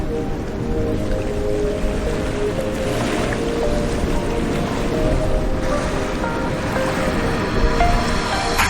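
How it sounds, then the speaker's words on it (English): Ocean surf washes steadily onto a pretty bay beach on St. Barth's, a continuous broad rushing roar with gentle swells and no voices. "nice surf behind us"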